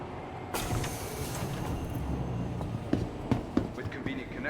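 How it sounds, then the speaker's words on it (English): A tram pulls into a station in the Star Citizen city of ArcCorp, heard as a rumbling vehicle approach with sharp clanks and pneumatic-like hisses, while voices speak over it. "Tram now approaching."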